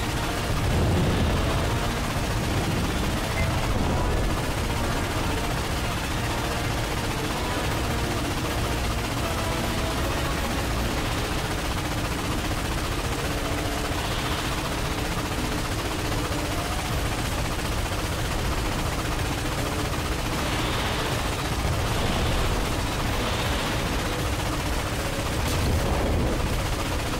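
Dense, continuous volleys of heavy gunfire and cannon blasts in a Ratchet & Clank video game roll on without pause, loud and chaotic like a battle scene, with faint shouting buried underneath.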